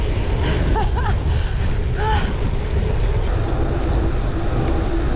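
Strong wind buffets an open boat heading along the coast toward Christchurch, a loud steady roar of gusts against the microphone with water wash beneath and a few faint bird calls.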